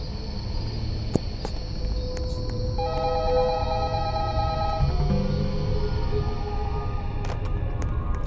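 A telephone rings in a horror video game, its trilling electronic tones repeating over a steady low ambient hum with insect-like chirps, no voices.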